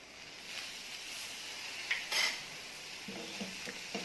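Okra bharit stirred in a pan, soft scraping and a couple of brief metallic clinks over a faint background sizzle, close and quiet with no talk.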